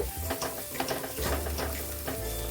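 Masala with Kashmiri red chili powder is stirred and fried in oil for a puti fish curry, giving close sizzling with scraping, rattling strokes of a spatula against the pan.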